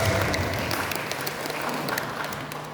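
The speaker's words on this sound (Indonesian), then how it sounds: "Tepuk tangan untuk saya." An audience at an Islamic religious gathering in Wonosobo, Indonesia, claps together in a steady, dense burst of applause that holds at even loudness for a few seconds.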